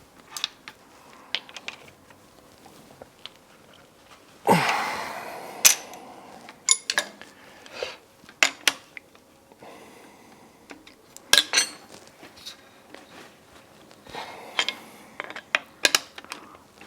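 A pipe bender's frame being put under pressure while tightening, heard as scattered metallic clicks, creaks and clanks with one louder scraping burst partway through, close up and with no talk.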